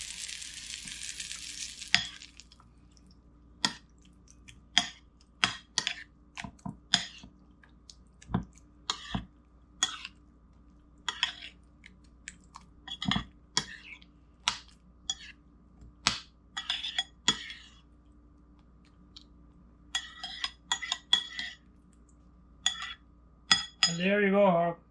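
Baigan choka, roasted eggplant mash with hot oil, stirred in a pot with a metal spoon: irregular clinks and scrapes over a low background hum, beginning with a brief sizzle.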